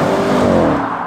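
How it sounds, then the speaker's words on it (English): An Audi RS6 engine roars loud and close, a sustained throaty rev that holds steady for about a second before easing off slightly. "the Audi RS6 sounds like this"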